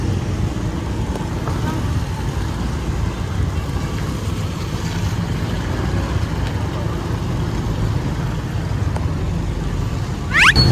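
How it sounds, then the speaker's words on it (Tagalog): Steady road traffic rumbles past on a road under repair, a continuous low drone of car and truck engines with no clear gaps, fairly loud and close, and a voice faintly present. "Traffic dito kasi ginagawa yung daan."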